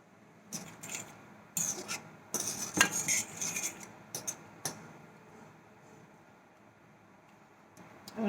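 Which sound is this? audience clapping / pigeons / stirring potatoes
stirring potatoes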